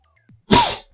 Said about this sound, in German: da muss ich wieder niesen, sorry.